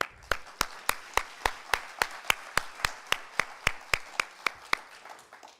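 Sharp hand claps repeat at an even, brisk pace, close and distinct, over a faint murmur of background noise.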